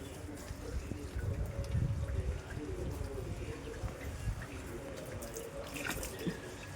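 Water pours and splashes steadily onto potted and hanging plants nearby, a continuous gushing patter with faint voices in the background.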